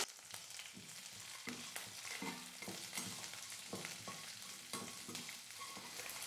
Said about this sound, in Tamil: வெங்காயம் ஓரளவுக்கு வதங்கினதும்